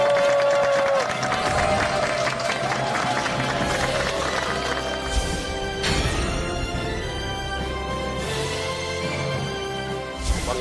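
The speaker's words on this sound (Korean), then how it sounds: "서동원 원장님을 여러분 박수로 환영해 주십시오" A studio audience on a Korean television health talk show applauds to welcome a guest doctor, a dense wash of clapping and crowd noise sustained for several seconds.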